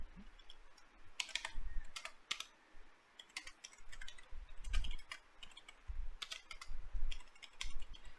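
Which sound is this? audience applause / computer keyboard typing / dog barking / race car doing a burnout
computer keyboard typing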